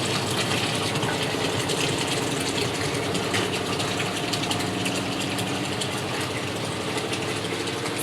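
A semi-automatic household washing machine spins its load in a steady, continuous mechanical whir with a faint rattling texture, loud and close, running without pause and with no talking over it.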